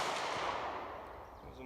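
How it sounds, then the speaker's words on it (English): A single M&P pistol shot fired at a target 100 yards away, heard outdoors as one sharp report that trails off in a fading echo. "See if we can't hit that target at 100 yards with the M&P."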